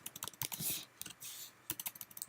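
Fast typing on a computer keyboard, with a rapid run of close, crisp key clicks and a brief pause partway through.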